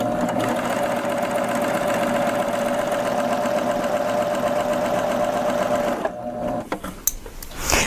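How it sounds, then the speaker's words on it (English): A Babylock serger sews a chain stitch joining fabric strips for a reversible placemat, a steady close mechanical whir that runs for about six seconds, then stops and leaves a few light handling clicks. "So let's just sew these together with that chain stitch."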